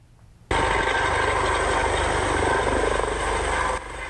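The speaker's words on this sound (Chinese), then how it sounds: "空勤直升机飞到找到姓罗查甫人遗体所在" A rescue helicopter flies over a riverbed after a dam water release at Wujie Dam. Its loud, steady rotor roar begins abruptly, holds for about three seconds and then drops away.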